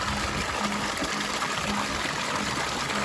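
Water gurgles and trickles into a small pool at the base of a boulder pondless garden waterfall, a steady, close, continuous splashing wash without talk.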